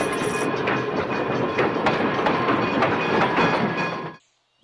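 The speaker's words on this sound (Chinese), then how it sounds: "现在就坐火车回老家" Train ride in the video game House Flipper: a loud, steady rumble of rolling wagons with rhythmic clickety-clack wheel beats that stops abruptly near the end, no voices.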